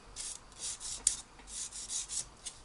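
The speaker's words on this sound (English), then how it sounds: "So I give that a little sand now." Light hand sanding of a small Tiger tank scale model part, soft rhythmic rubbing strokes repeating close by, quiet and without talk.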